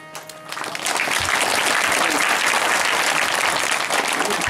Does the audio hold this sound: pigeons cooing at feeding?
no